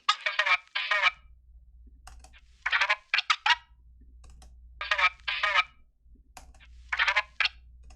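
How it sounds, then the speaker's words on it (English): Short bursts of scratched record sounds from a sample come in quick clusters with brief gaps between them, over a faint low hum. "Then I got this scratch sample off a splice."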